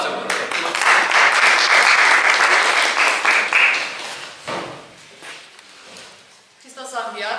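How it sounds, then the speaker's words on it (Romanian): An audience at a poetry book launch gives loud, dense applause that swells for several seconds, then thins out and fades, with a voice coming in at the end. "Aplaudați-vă!"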